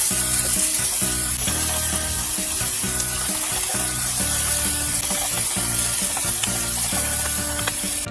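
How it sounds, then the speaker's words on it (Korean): Minced onion and garlic stir-fry in hot cooking oil in a pan, with a continuous loud sizzle and a rhythmic scrape of stirring throughout. "다진 양파 2스푼, 간마늘 1스푼 넣고 노릇하게 볶아줍니다."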